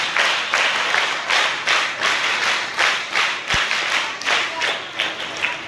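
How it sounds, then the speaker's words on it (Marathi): At a school event after a Lokmanya Tilak speech competition, a crowd of students gives a scout-guide clap, a loud rhythmic run of clapping in regular grouped bursts nearby. "त्यांचे 3 टाळ्या 3 वेळेस वाजून आपण अभिनंदन करूया. स्काउट गाईड क्लॅप गो."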